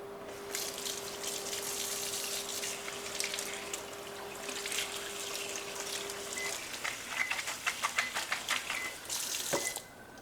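Tap water runs steadily over a mixing spoon at a kitchen sink, a close splashing gush broken by clinks and knocks of the spoon, ending with a sharp clatter as the flow stops.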